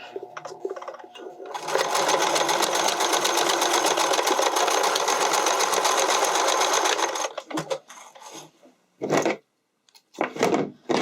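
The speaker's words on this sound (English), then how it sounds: "And then you're going to just sew it together." A sewing machine stitching wide elastic for a spandex garment waistband into a loop, starting with quiet handling, then a loud, steady whirring run for several seconds before stopping, followed by scattered clunks and fabric shuffling.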